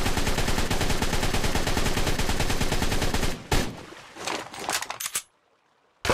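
Rapid gunfire fired down into water in the ARK survival game, a dense sustained burst followed by a few scattered shots and splashy noise, then a sudden drop to near silence.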